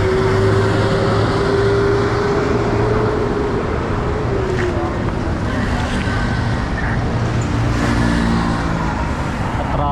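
Loud, dense street traffic roaring without pause at a busy crossing, engines rumbling close by, a low engine drone shifting pitch, and wind buffeting the microphone.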